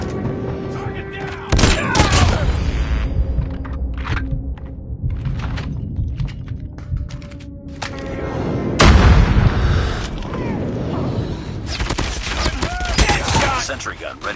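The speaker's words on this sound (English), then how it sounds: "Friendly airstrike incoming." Airstrike explosions and gunfire boom in a Call of Duty match, with loud bursts and heavy thuds near the start and middle over a steady rumble of battle, along with in-game voice callouts.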